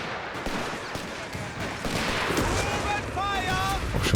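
Artillery and mortar fire in a Company of Heroes 3 battle, heard as a steady rumble of distant impacts and shots under a continuous wash of game noise, with a commentator talking over it.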